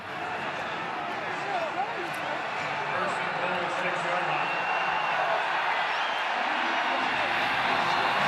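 A large stadium crowd at a San Antonio Brahmas UFL football game against the Birmingham Stallions roars in a steady, dense wash of cheering that stays constant throughout, with a broadcast announcer's voice talking faintly over it.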